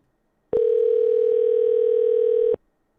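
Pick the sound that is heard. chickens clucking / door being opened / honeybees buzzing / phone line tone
phone line tone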